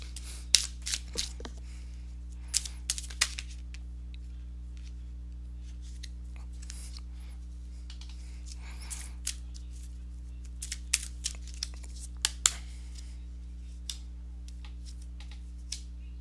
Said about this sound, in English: let me go ahead and shuffle the cards